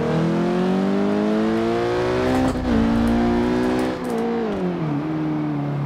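In Forza Horizon 2, Tanner Foust's Rally GRC Beetle revs hard through its gears, a loud, close engine whine climbing in pitch, dipping at shifts and rising again.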